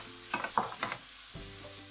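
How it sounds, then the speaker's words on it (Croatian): Chopped onion and bell pepper fry in a pan for ćevapi, a soft sizzle under a few scraping stirs of a spoon, close and fairly quiet, with no voices. "sada to uz miješanje pržimo tako dugo dok nam povrće onako malo ne opusti"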